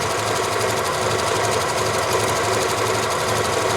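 A Janome Memory Craft 6500P sewing machine stitches a design with a steady, fast mechanical whir and even needle rhythm, close and continuous without pause.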